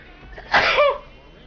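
One sharp, loud human sneeze goes off close up as a quick explosive burst with no talking over it.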